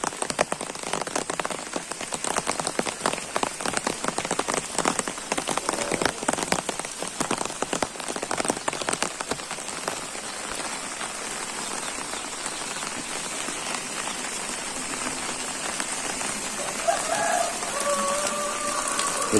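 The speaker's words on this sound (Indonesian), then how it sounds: "suasananya di saat hujan ya di pedesaan" Steady rain falls on surfaces in a hilly Indonesian countryside village, a dense continuous patter with close drops hitting roofs and ground, no talking.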